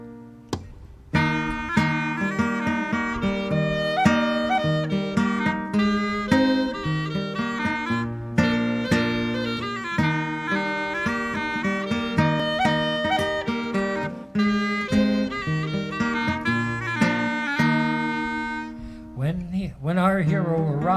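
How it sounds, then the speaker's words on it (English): Bagpipes play a Black Watch style tune, a bright, dense, continuous melody over steady low drones that runs for about twenty seconds. "where the piping sounds something like this."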